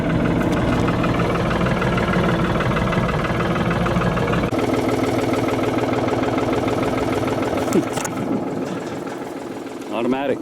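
A farm tractor engine idling steadily nearby, a loud, continuous rattling drone that holds for the whole stretch.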